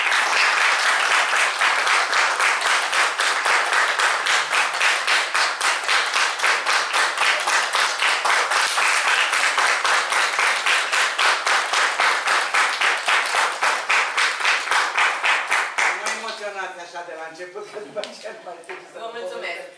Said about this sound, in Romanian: aș dori să o primim cu aplauze